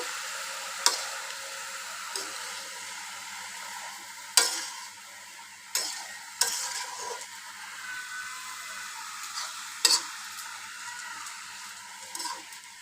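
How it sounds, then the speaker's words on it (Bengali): Malabar spinach greens stirred in a frying pan for a fish curry: a soft steady sizzle with sharp utensil scrapes and taps against the pan every second or two, close and moderately quiet, no voices. "শাকটাও আমি একটু নেড়ে চেড়ে নিচ্ছি"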